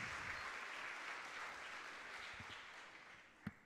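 Steady applause from a crowd at a regional oratory competition final, many hands clapping together in a continuous wash, with one sharper clap near the end.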